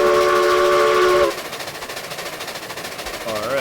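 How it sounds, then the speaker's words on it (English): A steam locomotive in RailRoads Online sounds a loud, sustained whistle, then drops into steady, rapid rhythmic chuffing and rail clatter as it speeds along. "So fastest, strongest locomotive, new sounds."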